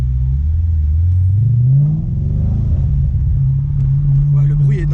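An all-black Audi RS4 engine rumbles low and deep, climbing in pitch as it revs and accelerates up a hill, then settles into a steady drone, heard from inside the car with people talking.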